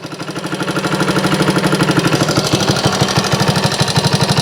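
A 1964 Honda CT90 motorcycle engine idles close by, a loud steady rapid putter with a regular pulsing beat throughout, no voices.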